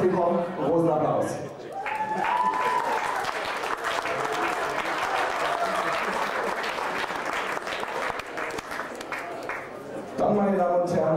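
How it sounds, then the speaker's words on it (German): Sustained audience applause at a German live event in Planet Hollywood, a broad dense wash of many hands clapping that swells after a brief dip and carries on steadily, with voices and crowd noise mixed in near the start and end. "großen Applaus"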